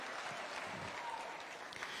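An audience at a Kiambu County gathering in Kenya claps together, a soft, fairly distant patter of applause that holds steady for a couple of seconds.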